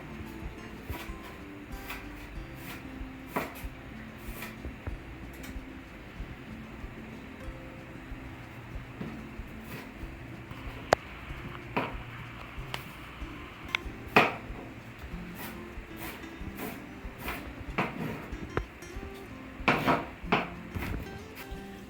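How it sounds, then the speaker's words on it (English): An onion is finely chopped with a knife on a board, a steady run of quick, close taps and knocks for the whole stretch, fairly quiet and without talk. "I'm going to chop up some onion and throw it in the bacon grease to saute"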